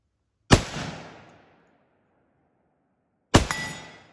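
Two loud gunshots from an Egyptian Hakim rifle in 8mm Mauser, each a sharp crack with a ringing decay, spaced about three seconds apart outdoors.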